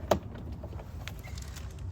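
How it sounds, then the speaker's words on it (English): The plastic door of a toy Chevy Silverado ride-on car swings open with one short, close click, followed by quiet room hush. "The door opens. See that?"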